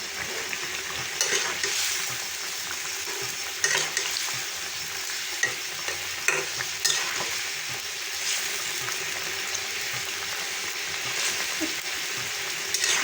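Potato and tomato curry fries in a pan while being stirred, a continuous close sizzle with occasional sharp scrapes and knocks of the spoon against the pan.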